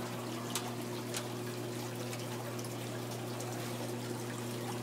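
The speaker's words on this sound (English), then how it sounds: "The water was pouring down and it's dripping on my fingers." Real water pouring down an indoor waterfall, a steady close trickling splash running evenly throughout over a constant low electrical hum.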